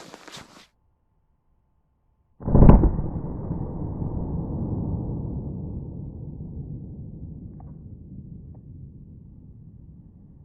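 A .45 ACP +P round fires from a subcompact pistol: after a brief noise and a stretch of silence, a single sharp, loud shot rings out and trails off in a long, fading reverberation.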